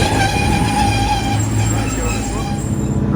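A TransPennine train pulls into the opposite platform near Guide Bridge, a loud, steady rumbling drone with humming tones, while a voice is heard speaking over it.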